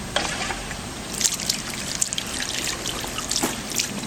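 Water trickles and splashes continuously through a two-tier pineapple garden fountain, a steady close babble with small droplet spatters.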